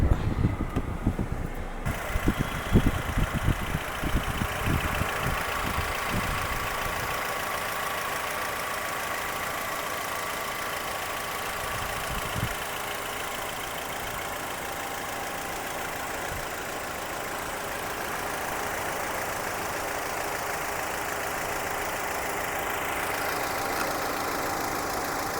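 A 2020 Hyundai Creta engine idles steadily with a continuous even hum and mechanical whir. A few brief knocks and handling noises come at the start, and the drone then continues unbroken.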